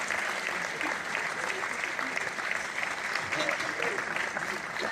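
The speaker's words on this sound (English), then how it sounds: "I got applause, I swear." Audience applause for an actor, a steady wash of many hands clapping at moderate distance, continuous and fairly faint, with speech faintly mixed in.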